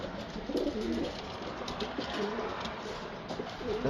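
A racing pigeon hen coos up close: soft, low, throaty coos repeat over a steady background hum.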